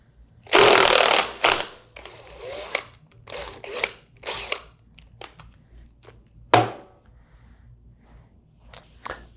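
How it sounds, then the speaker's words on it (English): A power impact wrench zips a nut off a centrifugal pump impeller in loud close bursts, one long rattling run followed by several shorter whirring pulses separated by quiet gaps. "Next, you got your impeller nut. Remove with an impact or ratchet."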